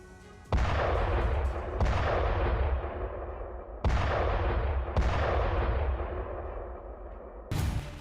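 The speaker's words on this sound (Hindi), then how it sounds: "तो देखिए रात में कैसे बमबारी की गई है" Artillery bombardment in the Ukraine war sends several heavy booms with long rumbling decays, four main blasts spaced a second or two apart and a fifth cut short at the end.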